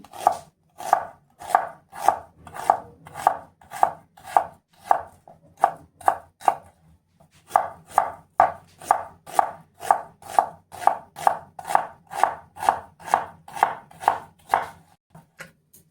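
Knife chopping an onion lengthwise on a board, a steady close rhythm of crisp evenly spaced cuts with one short pause partway through, alone without talk.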